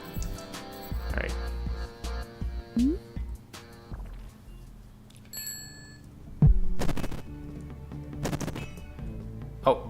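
Hand cannon fire in the video game Yawnoc, heard as a few sharp, punchy blasts scattered among ringing chimes, dings and other game effects, with no talking over them.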